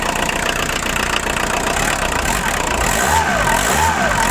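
A Volkswagen Caddy engine idles just after starting, a steady close rumble with a low, uneven throb, and a few wavering rises in pitch toward the end like slight revs.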